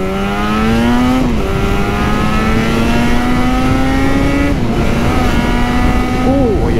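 A Yamaha RD350 YPVS two-stroke motorcycle fitted with performance expansion chambers revs hard and steadily close by, its raspy buzzing note climbing and dipping in repeated throttle blips over several seconds.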